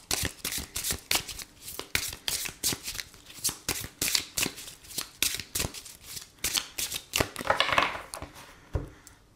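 Tarot cards being shuffled by hand, close and fairly quiet, with a rapid, uneven series of crisp riffling and slapping bursts continuing throughout.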